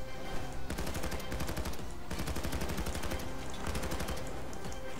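Rapid gunfire in the heist shooter Payday 2, dense automatic bursts of shots in steady rhythm filling the whole stretch with only brief pauses, loud and close with no talk over it.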